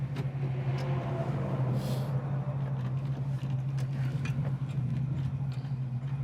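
A 1972 Ford Mustang Mach 1 pulls away and runs up through the gears, its steady engine drone loud and close throughout with a constant low hum and no voices.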